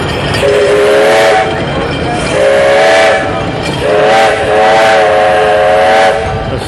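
A steam engine pulling a passenger train passes with loud, repeated whistle blasts in three long bursts over a heavy rolling rumble, close by, at the Rock River Thresheree in Edgerton, Wisconsin.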